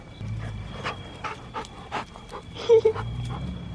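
A dog pants close by in quick, rhythmic breaths that continue steadily, with a couple of louder huffs near the end.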